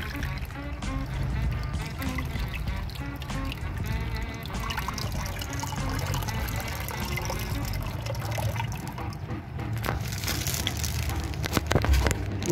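Water pours and trickles while a small aquarium with a cascade filter fills, a steady liquid rush with bubbling and splashes that grows louder toward the end.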